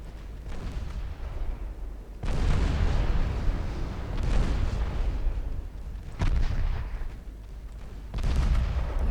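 Heavy naval main guns firing high-explosive shells in the Ultimate Admiral Dreadnoughts warship battle game: loud, booming broadside blasts in several bursts with rumbling tails, continuous with no talk.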